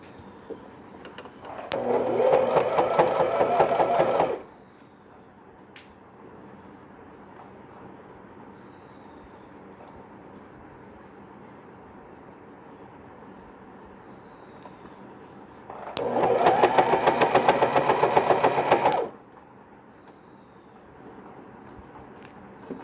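A sewing machine stitches stretchy banian knit cloth for a newborn's ear-covering cap, running in two loud bursts of a few seconds each separated by a long quiet stretch.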